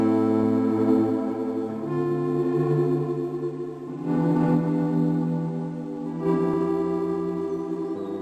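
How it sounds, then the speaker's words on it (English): A lush, heavily processed synth chord progression with effects plugins, sustained chords shifting every couple of seconds, loud and alone with no voices. "go from a basic chord progression like this to an insane, vibey progression like this"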